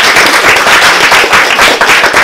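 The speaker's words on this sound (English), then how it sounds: "Ladies and gentlemen, round of applause to Mirosha." Loud, dense audience applause at an awards presentation, many hands clapping close and continuous without pause, with no talking over it.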